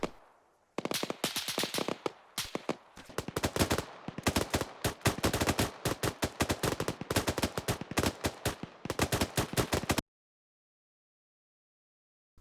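Sustained rifle and machine-gun fire in the ArmA 3 military game: rapid bursts and single cracks overlapping loudly for about ten seconds, then cutting to sudden silence.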